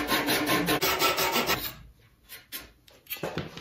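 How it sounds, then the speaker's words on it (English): A flush trim saw cuts wooden plugs level with the surface in quick rhythmic strokes, close and raspy, stopping midway and then resuming in a few shorter bursts. "And then you just go down the line and take your flush trim saw."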